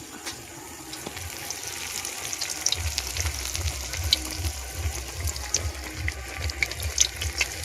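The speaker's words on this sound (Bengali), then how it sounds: "এবার একটা একটা করে ছেড়ে দেবো, একটা একটা করে ভেজে নেবো" Onion fritters (piyaji) deep frying one at a time in oil, a steady close bubbling sizzle with light crackles, joined partway by a rhythmic low thumping pulse.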